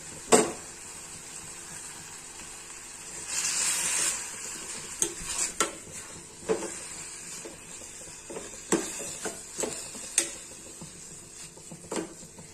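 Carrot filling for modak frying in a pan gives a faint, steady sizzle beneath repeated stirring, with spatula scrapes and light clinks against the pan recurring every second or two, plus a slightly louder burst of frying noise midway.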